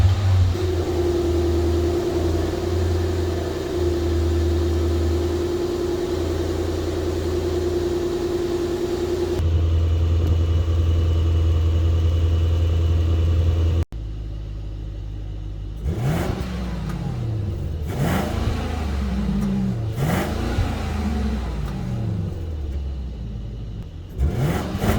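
Steady low engine rumble from inside a moving Maybach GLS 600 SUV with a 4.0 V8, then deeper revving surges rising and falling repeatedly as it accelerates.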